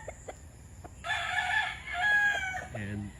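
Fighting roosters of pure and dark lemon lines on a game-fowl farm, with a rooster crowing loudly at close range and a shorter crow at the end, over faint clucking and clicks in the background.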